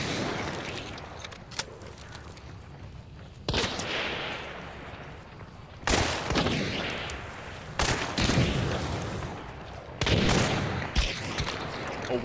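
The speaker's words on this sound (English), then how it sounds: "Oh, we're getting shot at by the other team now." Video game gunfire from an opposing team, with dense bursts and volleys of shots and booms overlapping in a continuous loud barrage, with sharp surges every couple of seconds.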